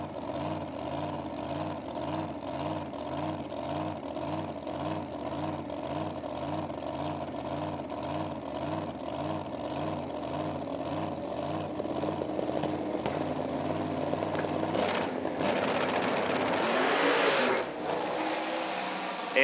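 Engines roar steadily in a drag race between a long, low 1970 GTO and a supercharged 521-inch Hemi, rising into a louder, harsher burst of noise near the end.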